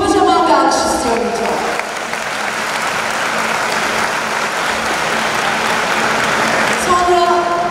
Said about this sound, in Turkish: özel çağdaş okullarının her kademesindeki profesyonel ekibim için kocaman bir alkış istiyorum